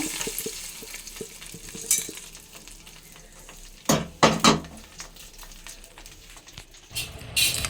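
Warm tempering oil is poured onto a red chili and ginger pickle, giving a few short, loud sizzling bursts and utensil clinks over a low, quiet kitchen background.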